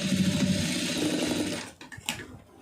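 A sewing machine runs steadily while stitching a tack seam on fabric, loud and continuous for about a second and a half before it stops, leaving brief handling clicks.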